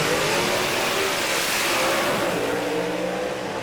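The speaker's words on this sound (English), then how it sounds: "This is going to be a monumental drag race. 2 very capable drivers, 2 super fast cars." Two gasser-class drag race cars launch side by side down the strip at Knoxville Dragway, their engines roaring loud and continuous as they accelerate, with a sustained, rising, close-up blare that never lets up.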